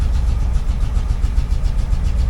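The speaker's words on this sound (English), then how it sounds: "I've got the choke all the way in, so she's running rougher than she was before." A 1964 International Harvester Travelall engine idles roughly up close in cold weather with the choke all the way in, a loud, uneven low rumble with a pulsing, lumpy rhythm throughout.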